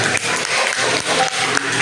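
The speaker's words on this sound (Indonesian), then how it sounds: "Tepuk tangan untuk kita semua" Applause from children and teachers at an elementary school workshop for National Children's Day, a dense, steady clatter of clapping lasting under two seconds.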